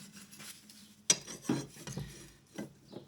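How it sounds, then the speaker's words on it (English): Metal parts are deburred by hand rubbing and filing in a van workshop, giving soft intermittent rasping scrapes with a sharp metallic clink, close and alone without speech. "I'm just taking all the burrs off all the metal now"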